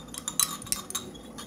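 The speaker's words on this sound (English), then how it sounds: "Next, we are going to mix up the saturated solution." A spoon stirs sugar into a solution in a glass, giving a few quick bright clinks of metal against glass over about a second and a half, close and fairly quiet with no talking.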